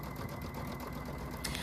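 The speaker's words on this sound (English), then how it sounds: "So we're going to sew our pleats in place." A sewing machine stitches pleats in place on a quilt-as-you-go hanging towel, giving a fast, steady mechanical whir with a rapid needle rhythm and a brief sharper clatter near the end.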